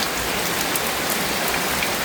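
Rain falling steadily in a rural setting, a dense even patter on surfaces with occasional louder drops, close and continuous with no voices.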